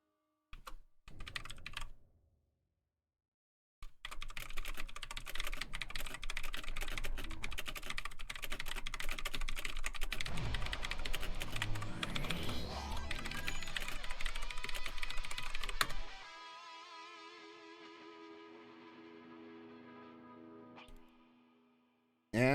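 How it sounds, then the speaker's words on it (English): Someone types on a computer keyboard during an Echo Arena VR match broadcast: a dense, fairly quiet run of rapid key clicks for about twelve seconds, after a brief burst and a pause, ending in a fading tonal ring. "excuse my typing"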